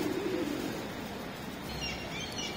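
Pigeons coo and other birds call while being fed outdoors with gulls nearby, soft throaty cooing early on and a few faint higher chirps later over steady background noise, no talking.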